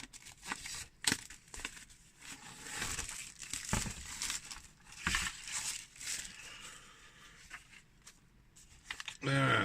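Shrink-wrap plastic crinkles and crackles in irregular bursts as an MDF wargaming building kit is unwrapped, with a voice talking underneath and a louder rustle at the end.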